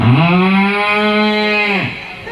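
A performer's voice imitates a cow's long, drawn-out moo at a large live children's storytelling event in Gunungkidul. The single loud, close call rises, holds steady, then trails off with no other talk.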